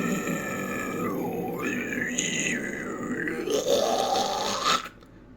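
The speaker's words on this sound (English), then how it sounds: "that are typically deathcore vocals" A deathcore metal vocalist delivers a sustained, guttural growl, harsh and loud, sliding in pitch and rising toward the end before cutting off abruptly.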